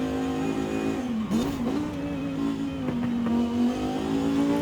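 A BMW race car in Forza Horizon 5 laps a track, its engine holding a steady tone with brief revs and shifts as it brakes into corners, close and continuous.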